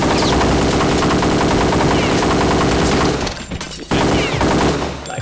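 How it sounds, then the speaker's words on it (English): Tommy gun firing in the video game Kingpin: loud, rapid sustained bursts of automatic fire that break off briefly, then resume, with no voices over it. "Tommy Gun."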